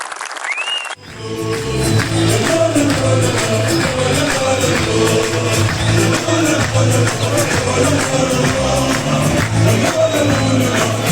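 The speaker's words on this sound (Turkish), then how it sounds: "Kocaman alkış onlara" A political rally crowd breaks into loud, sustained applause, dense clapping that swells after a brief opening and carries on steadily for about ten seconds, with no voices rising above it.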